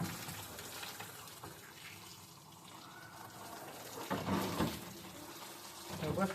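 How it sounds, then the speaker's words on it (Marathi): Water splashes and gushes close by as it is poured to rinse detergent off something at home, a continuous wash with a few louder surges and voices talking faintly in the background. "त्याला पाणी टाक पाणी टाक धुवून टाकायला"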